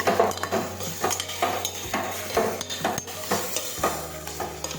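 A potato, eggplant, tomato and pea curry being stirred in a pan, with repeated scraping strokes of a spoon against metal over a soft background sizzle, close and steady, no talking.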